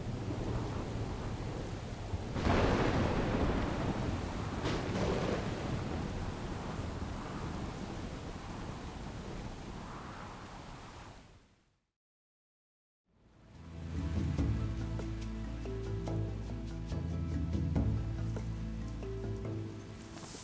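Steady heavy rain pours down, a dense, broadband hiss that is loud and continuous, cuts out to silence for a second or so, then returns with low rumbling beneath it.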